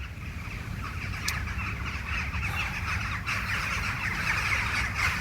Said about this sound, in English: Sounds like the birds are coming home to roost.